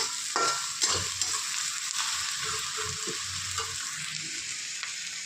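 Onions sizzling in hot oil in a pan while being stirred for chicken curry, a steady bright frying hiss with intermittent scraping and clanking of the spoon against the pan, no talking.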